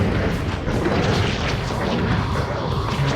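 Rocket launcher fire in the fast-paced video game Morbid Inhale: a dense, booming roar of blasts and explosions that stays loud and unbroken for the whole stretch.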